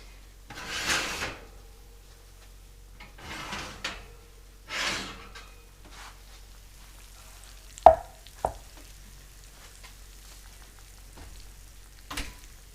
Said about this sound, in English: I can still hear the sizzling noises.